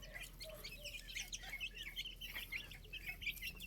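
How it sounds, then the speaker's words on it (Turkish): Many small high-pitched chirps overlap in a busy, continuous cheeping, like a group of baby chicks peeping close by with a low hum underneath. "Şu anda sadece bu civcivleri çıkardım. Çünkü çok ses yapıyorlardı."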